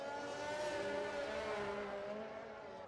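An RC race car at a China round of a racing series, heard distantly as its engine buzzes with a short-shifted, not-full-revs pitch, a steady whine that fades slightly at the end.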